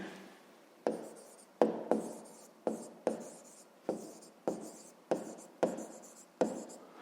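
A pen writes digits on paper for a fifth-grade maths exercise, nine or ten distinct scratchy strokes in a steady rhythm, close and alone.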